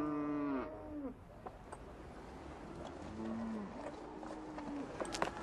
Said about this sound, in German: Etwa 450 Rinder, fast alle der Rasse Schwarze Angus.